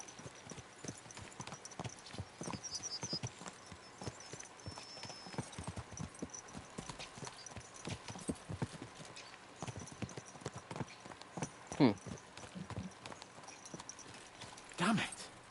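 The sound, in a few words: horses galloping, hooves clip-clopping, from video game Kingdom Come Deliverance II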